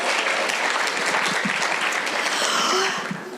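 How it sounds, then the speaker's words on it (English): A keynote audience gives a round of applause, dense and loud clapping filling the hall steadily before tapering off near the end, with no talking over it. "Let's give the millennials a round of applause."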